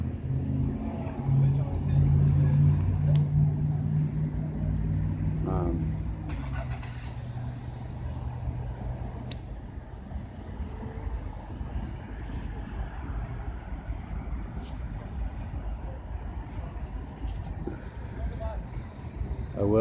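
A vehicle passes close by at a roadside traffic stop, its engine rumble loud at first and then settling into a steady road noise, with people talking faintly in the background.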